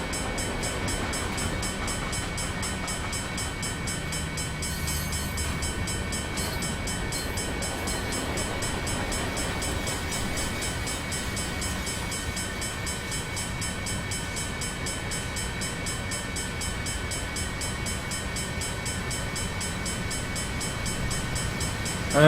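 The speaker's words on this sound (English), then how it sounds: "Here comes the rear of the train." Continuous rumble and clatter of a Union Pacific ES44AC train rolling past on Sherman Hill in Train Simulator 2016, steady and moderately loud throughout, with no voices.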